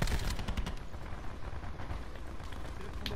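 A Titan machine gun with the operator mod fires in Black Ops 4, a dense, loud burst of rapid shots that settles into continuous heavy battle noise for a few seconds, without speech.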